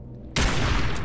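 Gunfire in Fallout 4 erupts abruptly after a quiet moment, a dense, loud wash of shots that continues steadily to the end.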